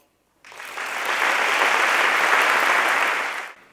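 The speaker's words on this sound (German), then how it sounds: "Ich begrüße alle Preisträgerinnen und Preisträger mit einem grossen Applaus." Sustained audience applause greets prize winners at the 2017 Solothurn canton sports awards ceremony, swelling in quickly, holding as a steady, fairly loud clatter of many hands, then stopping abruptly.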